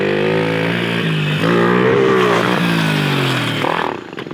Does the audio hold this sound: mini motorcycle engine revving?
yes